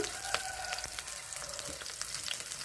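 Curry leaves dropped into hot oil, a close, steady crackling sizzle with sharp pops throughout, no voices.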